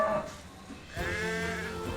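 A ram bleats on a farm, one drawn-out, wavering call that swells up close after a brief quieter stretch, with no talking over it.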